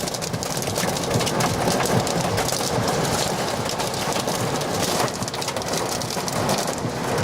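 A thunderstorm pounds a car with heavy rain, while powerful downdraft winds buffet the vehicle, producing a loud, continuous roar of rain drumming on the body with gusty surges and no talk.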